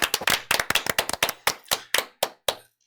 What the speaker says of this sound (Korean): 반격 훌륭했다. 박수 한번.